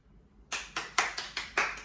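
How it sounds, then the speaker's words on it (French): Six sharp claps in a steady rhythm, starting after a brief quiet pause, fairly close and moderately loud. "Est-ce que je peux avoir des applaudissements"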